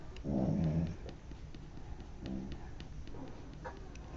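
Maisie the pug snores close by with one strong rasping breath followed by softer, fainter snorts, while faint clicks sound in the background.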